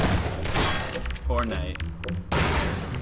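Gunshots in the video game Garry's Mod: a loud volley of overlapping shots at the start and another burst near the end, with voices talking through and between them.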